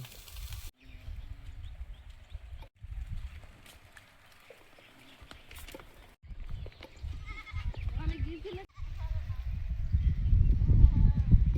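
Goats bleating intermittently amid farmyard noise, with people talking nearby and occasional thumps and shuffling.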